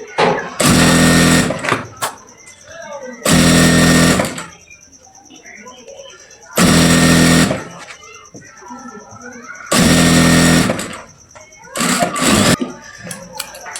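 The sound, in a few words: sewing machine stitching fabric seam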